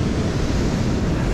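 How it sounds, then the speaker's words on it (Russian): Stormy winter sea surf washes onto a soft sandy beach on the Turkish coast in December, a steady, loud roar of breaking water mixed with gusting wind noise and no pauses. "волна сюда заходит, песок очень мягкий"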